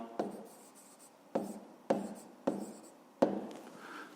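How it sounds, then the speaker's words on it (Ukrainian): Pen or pencil on paper while an answer to a fifth-grade math exercise is written out: five sharp strokes and taps at irregular intervals, close and quiet, with no talking. "зараз записуємо відповідь до другого завдання"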